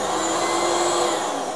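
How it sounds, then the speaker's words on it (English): A vacuum system test runs on a machine, giving a loud, steady, close whine-like roar with a strong sustained hum that holds evenly for the whole stretch. "That is just to test the vacuum system."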